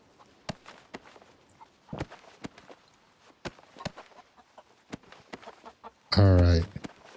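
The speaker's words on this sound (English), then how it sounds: "Where the fuck are the chickens? There they are." Chickens clucking in a western roleplay video game, scattered short clucks and footstep-like taps spread across the stretch, ending in a brief loud burst near the close.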